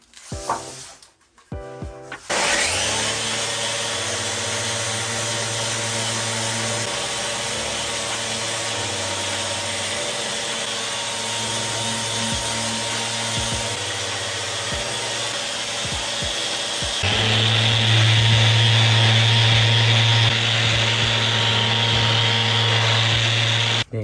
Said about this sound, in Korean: 이 로텍스를 이용해서 이 사포 샌딩 작업을 해서 부드럽게 만들어 드릴 겁니다 샌딩 시작합니다